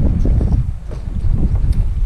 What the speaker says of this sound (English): This has been a tough, windy day